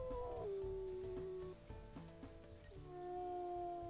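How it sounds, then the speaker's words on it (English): A deep, drawn-out wolf howl from a wolf pack video game glides down in pitch, breaks off, then resumes higher and sustained, faint and mournful over a low background rumble. "I want a really deep howl."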